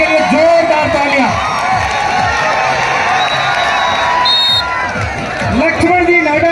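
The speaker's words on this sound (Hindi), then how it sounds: "एक बार इनके लिए जोरदार तालियां।" A crowd at a village kabaddi match in Osian, with elderly players in dhotis and turbans, cheers and whoops loudly while a voice announces over them.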